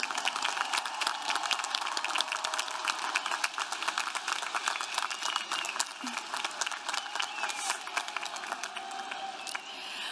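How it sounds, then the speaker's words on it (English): Sustained, dense applause from a graduation commencement crowd for the 2022 CSULB College of Engineering graduates, steady and loud throughout with many overlapping claps and a faint crowd murmur. "Let's give our graduates a huge round of applause for their accomplishment."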